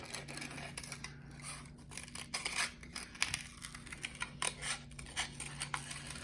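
Scissors snipping and rustling through paper, a series of quick crisp cuts at close range over a low steady hum.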